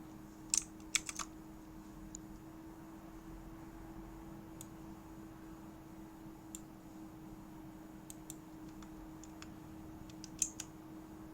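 Computer keyboard typing while working in Excel, with sparse, light key clicks and a few quick clusters of taps over a steady low electrical hum, no voices.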